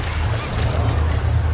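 Waves washing onto a resort beach, a continuous low rushing surge with broad wash and some wind, fairly close and steady throughout.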